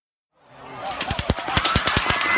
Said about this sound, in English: a storm of gunfire raining down upon an innocent crowd